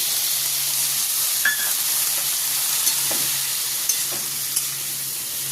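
Water from soaked cumin poured into potatoes and pointed gourd frying in a pan, giving a loud, continuous close sizzle and hiss with a few spoon clinks and stirring knocks.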